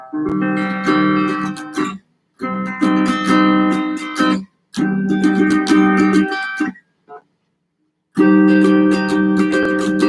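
Strummed guitar chords ring out in four separate bursts, each held a couple of seconds with short silent gaps between, close and fairly loud.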